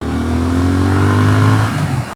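A Triumph Speed Twin 1200 motorcycle engine revs hard on the throttle, loud and close, with a rising then easing engine note lasting about two seconds and no voices.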